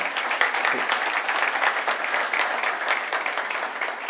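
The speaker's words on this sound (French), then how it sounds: "Si vous voulez bien applaudir nos 2 intervenants" An audience at a conference on a positive-energy high school applauds two speakers, a sustained, even round of clapping from a sizeable crowd at a steady level.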